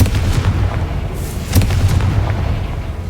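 A Confringo fire spell bursts in Hogwarts Legacy with loud, rumbling explosive booms and crackling blasts that sit over a steady low roar for about three seconds.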